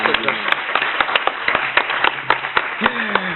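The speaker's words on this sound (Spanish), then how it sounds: "les damos, por favor, un aplauso a todos ellos por haber pasado" An audience at a social work panel applauds the speakers, a loose run of distinct claps of moderate loudness, with voices talking over them.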